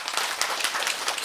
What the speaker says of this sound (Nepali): उहाँहरूलाई जोरदार ताली भने।